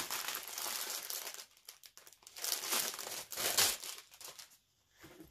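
Little paper packs from a craft and dollar store haul are handled up close, producing loud crinkling and rustling in uneven bursts with short quiet gaps.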